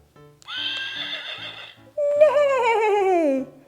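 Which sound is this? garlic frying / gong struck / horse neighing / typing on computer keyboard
horse neighing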